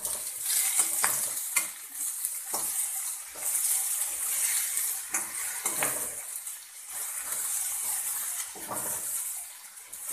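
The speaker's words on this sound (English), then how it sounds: "Now I am adding curry leaf." Steady hissing sizzle of curry leaves frying in hot oil, with occasional stirring clinks and crackles, close and continuous throughout.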